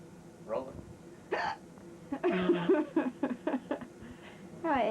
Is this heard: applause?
no